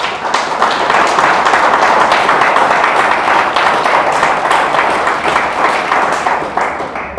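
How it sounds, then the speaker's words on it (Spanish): A church congregation applauds during a sermon, a sustained, dense burst of clapping that stays loud throughout and thins slightly at the end. "Le damos un aplauso a Dios."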